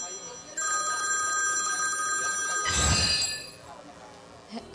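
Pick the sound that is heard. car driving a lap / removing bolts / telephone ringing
telephone ringing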